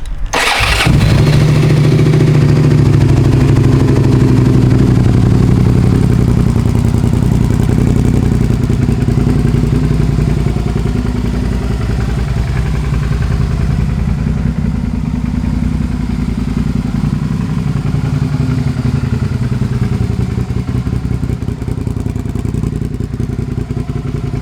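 A 2007 Suzuki SV 650 motorcycle engine cranks and fires, then settles into a loud, steady close-up idle of the V-twin that runs for over twenty seconds with no talking.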